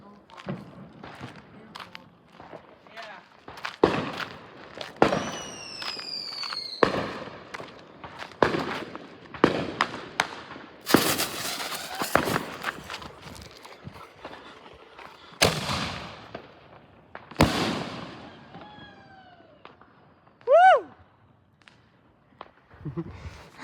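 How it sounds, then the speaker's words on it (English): Artillery shell fireworks set off in a backyard for a Fourth of July celebration, with sharp loud bangs and crackling bursts scattered across the stretch, some whistling launches, and a person talking between the explosions. "I'm lighting artillery shells."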